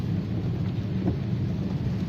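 Heavy rain pours steadily over Jakarta streets during a wet-season storm, a dense continuous wash with low rumbling underneath and no talking.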